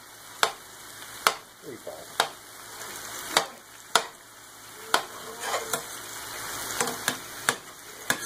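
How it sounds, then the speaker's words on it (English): Butter is stirred into a hot, deglazed chicken pan kept on high heat, with sharp, regular spoon taps and scrapes against the pan over a continuous sizzle; a brief voice speaks once. "Stir that around until it's good and dissolved."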